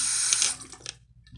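Tap water running into a bathroom sink while someone wets their face, a soft splashing hiss that fades out within about a second, faint and with no talk.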